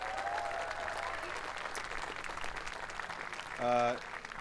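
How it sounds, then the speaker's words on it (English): An audience at an 8th grade promotion ceremony gives a moderate, continuous round of applause, with a voice briefly sounding over the clapping near the end. "We can give them a round of applause."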